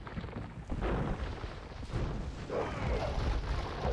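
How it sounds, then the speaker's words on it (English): Cannon guns firing in a strategy video game, a rumbling run of heavy booms and bursts overlapping one another, loud and continuous, with no voice over them. "Cannon guns now added by Melkor as well."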